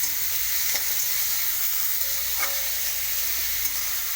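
Chopped tomato and salt frying and being stirred in a pan for a Bengali eggplant bharta, a steady close sizzle with a few sharp scraping clicks of the spoon.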